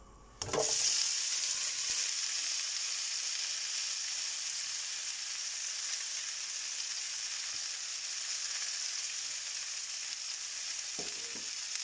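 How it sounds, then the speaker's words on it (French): Sliced courgettes hit hot olive oil in a pan and set off a loud, steady sizzle that starts abruptly and holds for about eleven seconds with no talking. "J'ai mis l'huile qui maintenant est bien chaude, l'huile d'olive, voilà. Je mets donc les courgettes."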